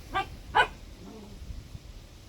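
A backyard dog gives two sharp, close barks in quick succession, followed by quieter rustling and thumps.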